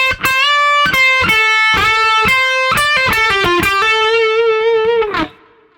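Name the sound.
electric guitar solo lick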